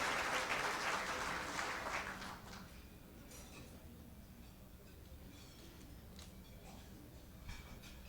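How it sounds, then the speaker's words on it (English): Audience applause for teachers and schools at the 11th annual Cecil J. Picard Education Excellence Gala in Louisiana, loud and dense at first, then thinning to scattered faint clapping with room noise. "Big round of applause for these incredible teachers and schools here in Louisiana"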